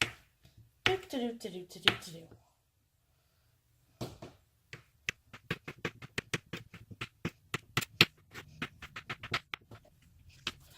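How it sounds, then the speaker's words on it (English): Softened butter chopped with a knife, heard as a quick series of close, sharp taps on a board after a brief stretch of talk and a short pause. "Just going to chop all your butter up."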